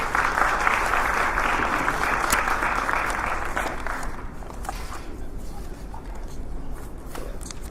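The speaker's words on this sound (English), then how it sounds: "Another round of applause for Chef Erick Williams" An audience at a small business event claps for a chef after a keynote, the applause full at first, then thinning and tapering off, with a voice speaking faintly beneath it.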